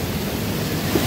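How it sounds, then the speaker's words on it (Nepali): Rainwater from an overnight downpour cascades like a small waterfall in Shram Sanskriti Park, a constant close rushing roar with no breaks. "यहाँ सानो तिनो झर्ना नै बनिरहेछ"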